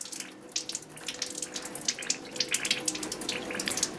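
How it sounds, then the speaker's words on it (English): A running tap pours water over wet hands and forearms at a sink during a surgical hand scrub, a steady close splashing hiss with small fluctuations as the hands move under the stream, with no talk. "Wet hands and forearm under running water."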